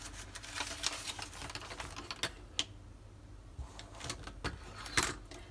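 Cheap 100-yen-shop scissors snip through paper in a series of short, crisp cuts at an uneven pace, close by, with quiet room noise between the snips.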